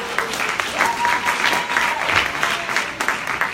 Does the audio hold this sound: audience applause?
yes